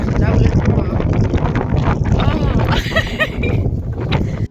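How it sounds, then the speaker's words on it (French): Outdoor wind buffets the microphone on a countryside path, a dense, loud rumble that runs throughout with brief gusts, while people talk over it and dogs are walked nearby. "Il y a du vent aujourd'hui, il fait super bon"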